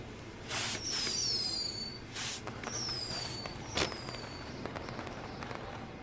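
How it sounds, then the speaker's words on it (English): Fireworks in the video game WWE 2K20 whistle upward and burst in a few separate volleys over a low, busy game background, fairly quiet and distant. "we'll get to see some cool fireworks"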